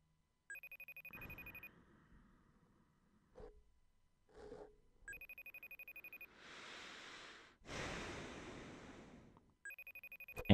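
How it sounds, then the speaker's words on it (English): A phone rings in repeated electronic trilling bursts, broken by rustling and handling noise, then rings again near the end. "Answer the fucking phone, Jesse."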